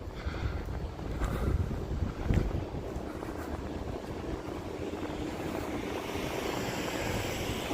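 Gusty wind blowing outdoors at night in Las Vegas, buffeting a microphone with low rumbling surges and a brief stronger gust, fairly faint and continuous with no talk.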